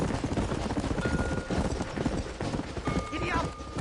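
Galloping horse hooves thud in a rapid, continuous rhythm on a ride in the Western video game Red Dead Redemption, under a rider's urging voice and game music.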